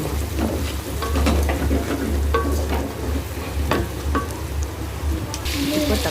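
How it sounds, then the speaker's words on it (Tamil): Shrimp with turmeric powder sautés in a pan, a steady sizzle with scattered crackles and occasional stirring clinks, a low hum running underneath and faint speech in the background. "இறா போட்டுட்டு நான் மஞ்சள் தூள் போட்டுட்டேன் போட்டு நல்லா அந்த ஸ்மெல் போகிற அளவுக்கு நல்லா வதக்கி"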